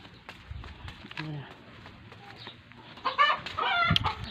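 Farmyard chickens and gamecock roosters cluck and squawk at close to moderate range, with bursts of louder clucking near the end, mixed with a person talking.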